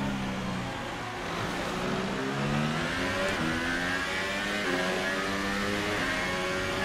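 F1 race cars in a racing game at the Baku street circuit, high-pitched engines revving and climbing through gear shifts, loud and continuous throughout with no speech.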